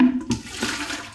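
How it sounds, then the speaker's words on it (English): Two cups of water poured into a vegan meat batter, a close splashing gush that starts loud and tapers over about a second. "now I'm going to pour in, this is 2 cups of water."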